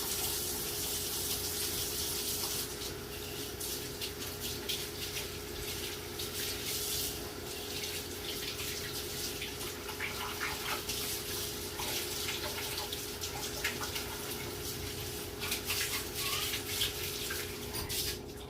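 Steady rush of water pouring from a tap into a pet's water bowl, continuous and fairly close, with faint clinks and splashes mixed in.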